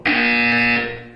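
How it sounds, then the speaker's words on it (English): A loud, steady electronic buzzer from the Portal 2 video game sounds once, a sustained harmonic tone lasting about a second before tapering off, with no talking over it. "You will hear a buzzer."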